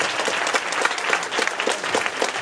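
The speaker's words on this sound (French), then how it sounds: "On peut applaudir Robin encore une fois" An audience at a local talent show in Damelevières gives a steady round of applause. Dense hand clapping fills the whole stretch at a moderate level, with no voices over it.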